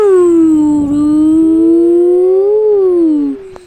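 A loud police siren in Minecraft wails up and down in one slow, steady sweep, then drops away abruptly at the end.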